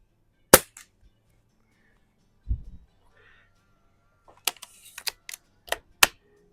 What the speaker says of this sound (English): I'm gonna go ahead and shoot my 10 shots at the upper target.